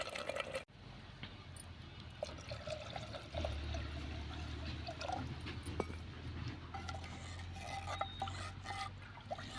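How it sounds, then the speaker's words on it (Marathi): Water pours steadily into a pot of spice masala for bajra-flour khalgut for several seconds, a continuous splashing rush with faint clinks of metal in the background. "आता यामध्ये आपण पाणी टाकून घेऊया."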